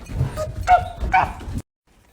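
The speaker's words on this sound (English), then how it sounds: "I love a visiting dog" A visiting fluffy dog gives a few close, sharp barks and yips in quick succession, ending abruptly in silence.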